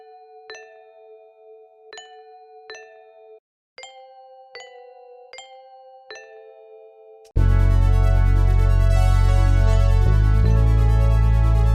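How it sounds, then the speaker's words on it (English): Vibraphone bell one-shots ring out in a steady rhythmic pattern of clear, resonant strikes picking out chord tones, then a much louder, dense full beat cuts in and carries on to the end. "These bells will be perfect for it, and just outline the first and fifth of each chord."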